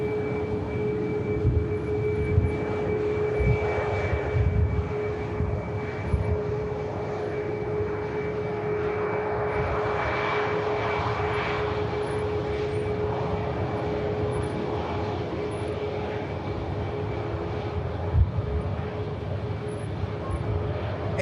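An Airbus A320 jet arriving from Stuttgart at Manchester Airport, its engines a steady, sustained roar and whine at moderate distance, with a constant tonal hum running throughout and faint low rumbles beneath.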